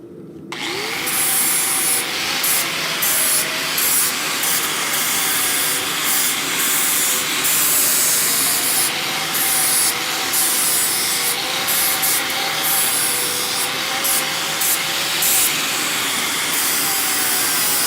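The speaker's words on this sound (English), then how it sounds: "So I'm just going to quickly hit them with my angle grinder" Angle grinder grinding mushroomed ends off mild steel shafts in a blacksmith forge, a loud continuous abrasive roar with a wavering whine that holds steady for the whole stretch, no talking.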